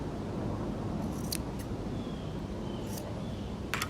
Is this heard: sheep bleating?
no